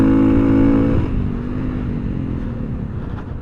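A big-bore Honda CRF300L dual-sport motorcycle pulling hard, engine note loud and steady at first, then easing off into a lower, rougher drone with wind noise as it rides on.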